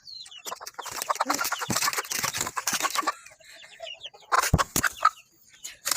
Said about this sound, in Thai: อันนี้ก็เป็นไก่ลูกผสมค่ะ เป็นไก่เนื้อ ยูริกต่ำผสมไก่บ้านนะคะ